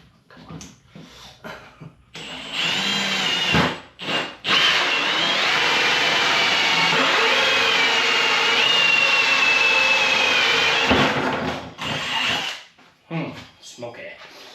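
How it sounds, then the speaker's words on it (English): A power drill drives screws into the water-damaged bottom of a cabinet, whirring loudly and steadily for about eight seconds close by. Shorter bursts come before and after, with pauses between them. "Let's go ahead and drill those"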